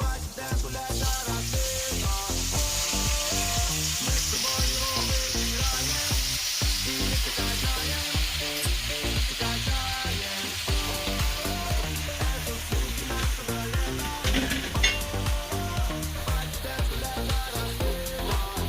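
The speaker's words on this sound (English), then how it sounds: "you're going to put your spinach in" Spinach sautés in a hot pan after a T-bone steak, giving a loud, steady crackling sizzle with dense popping and occasional tossing clatter, close up and without speech.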